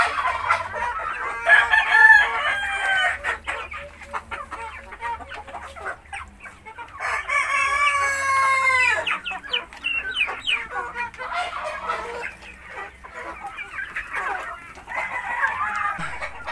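Chickens cluck and a rooster crows nearby, calls rising and falling in bursts over quiet background, the crow loudest near the middle.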